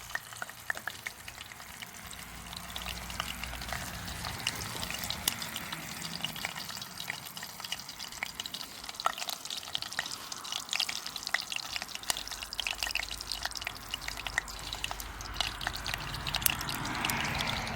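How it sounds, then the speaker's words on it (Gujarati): Mustard seeds and cumin spit and crackle in hot oil, a loud continuous sizzle with sharp popping ticks and occasional stirring scrapes, close up and without speech. "તેમાં આપણે રાઈ ને જીરું ને બધું નાખી દઈએ"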